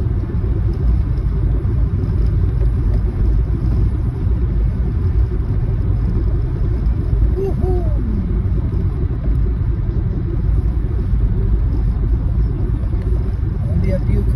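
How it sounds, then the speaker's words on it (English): Cars pass on a road on a foggy Florida morning, giving a constant low rumble of engines and tires, with someone talking throughout over the traffic. "cars coming out."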